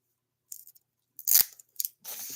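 Scissors snip through packing tape at close range: a few short, sharp crisp cuts and rustles separated by silence, ending in a longer tearing cut.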